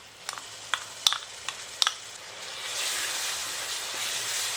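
Ginger garlic paste sautéing with onions in a pan for mutton biryani: a few sharp stirring clinks and scrapes at first, then a soft, steady frying sizzle takes over, fairly close and unaccompanied by talk.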